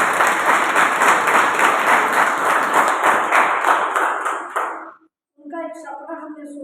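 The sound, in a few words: applause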